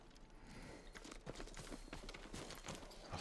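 Hooves of a farm horse clip-clop at a stable in the video game Ghost of Tsushima, an uneven series of soft thuds and taps over quiet ambient game sound.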